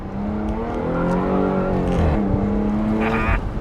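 A 2017 Jaguar F-Type roadster revs and pulls through gears, its engine tone rising and dropping at an upshift, with faint short exhaust pops and crackles over the steady close-up roar.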